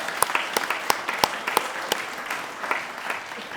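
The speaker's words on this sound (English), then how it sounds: "Let's give them a round of applause." Wedding guests clap for the young flower boys, with a few sharp, distinct claps standing out over a softer, thinning patter of applause that fades after a few seconds.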